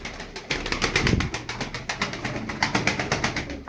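A loft of eleven pigeons coos in a steady run of soft, pulsing calls, close and continuous, with no talking.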